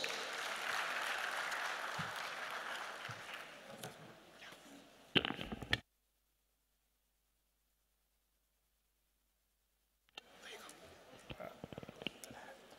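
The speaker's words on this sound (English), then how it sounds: "let's welcome him with a round of applause" An audience at a live-streamed event applauds as a speaker is welcomed, a broad wash of clapping that fades down with a few clicks and knocks, then silence, then faint stirring and handling noise.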